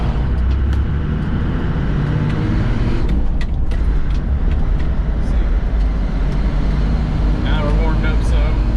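A 1987 Toyota Land Cruiser HJ61 with a 12H-T turbo diesel accelerating, its loud engine drone and road rumble filling the cabin steadily while a person talks over it.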